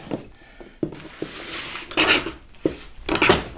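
A scraper dragging softened, stripped paint off poplar furniture during antique restoration, in several rasping strokes with short pauses between them, close and fairly loud.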